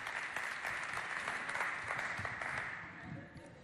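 Audience at a school talent competition show applauds a singer coming on for the national anthem, dense clapping at a distance with an announcer's voice mixed in, tapering off near the end.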